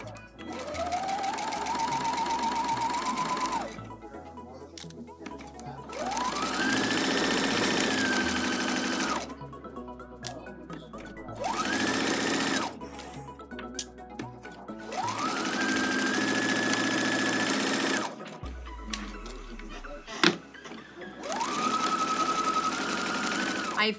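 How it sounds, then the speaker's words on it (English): A sewing machine stitches around the edges of an eighteenth-century pocket in several long bursts, its motor whining up to speed and running steadily before stopping, with quiet pauses between the runs. "So I'm putting it on my machine now with slightly less than a 1/2 inch seam allowance, and I'm just stitching around all the edges."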